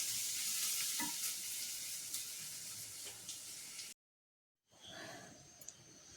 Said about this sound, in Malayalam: അപ്പം ഞാൻ ദേ സവാളയൊക്കെ വഴറ്റി നമ്മൾ സാധാരണയൊക്കെ വെക്കണ പോലെ തന്നെ.